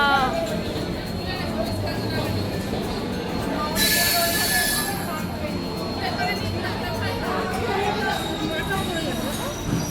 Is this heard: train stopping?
yes